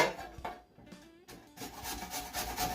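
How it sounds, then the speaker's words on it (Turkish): Rhythmic rasping strokes of a medium onion being rubbed across the finest side of a grater, close by, pausing briefly before resuming more intensely. "orta boy soğanı rendeliyoruz"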